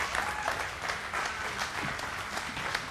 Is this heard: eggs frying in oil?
no